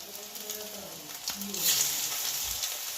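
Bengali prawn fritters, made with small bhushō prawns, fry in hot oil with a soft, steady sizzle. The sizzle swells a little partway through and stays quiet and close.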